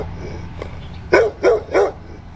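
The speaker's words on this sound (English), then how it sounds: "She's still barking." A dog outdoors on a city street lets out three loud, close barks in quick succession over steady low background noise.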